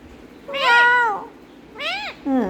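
A voice imitates a cat, giving three drawn-out, close meows in a row, the last one cut short.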